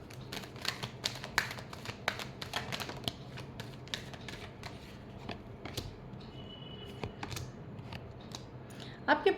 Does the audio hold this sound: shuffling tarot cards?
yes